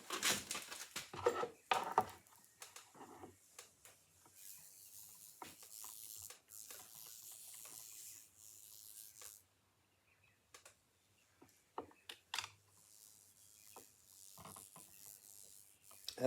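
Knife blades (Kizer Baby in 154CM and KHU in D2) cutting into soft lead, giving quiet scraping and rasping strokes with sharp taps and scuffs between them, close and faint, repeated irregularly over several cuts.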